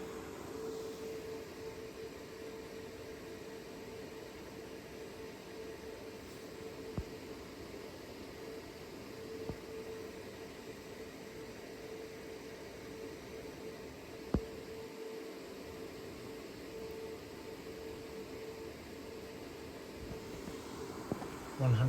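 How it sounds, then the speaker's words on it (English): A Be Quiet Silent Wings 4 Pro 120 mm fan runs at full speed, giving a steady, quiet airy whoosh with a faint constant hum and occasional small clicks. "120 millimeter size fan"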